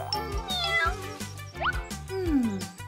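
A small kitten meows several times in quick succession, close and fairly loud, over background music in an animated scene.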